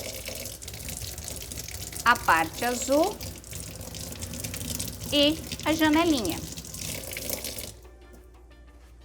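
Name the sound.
rinsing a refractometer under running tap water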